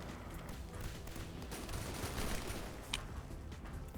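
Dense, continuous barrage of explosive missile fire in the indie video game Gearbits, a steady loud roar of overlapping blasts with a sharp hiss near the end, no voices.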